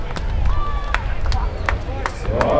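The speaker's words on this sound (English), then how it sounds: "Home crowd not too happy." Home crowd at an Intrust Super Cup rugby league match between CQ Capras and Ipswich Jets reacting to an Ipswich try, a steady broad murmur of the stands with scattered claps and sharp calls rising toward the end.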